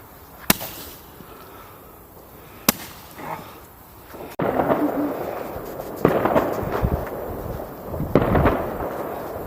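Sharp firework bangs crack a few times, then a denser run of booming, crackling bursts, fairly close, heard from indoors near a panicking dog.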